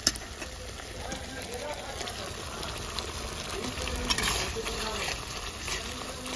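Mustard and poppy-seed paste goes into tomato frying in a pan for wedding-style mustard pabda fish, giving a steady, fairly close sizzle with stirring throughout.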